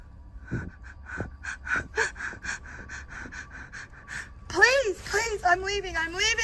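A fleeing woman breathes in fast, ragged pants that build into loud, sharp gasps and strained whimpering breaths, close and alone.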